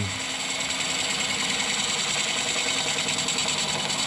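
Small carbide tool cutting an epoxy resin bowl on a lathe, a steady continuous scraping whir with motor hum running unbroken and close, no talk.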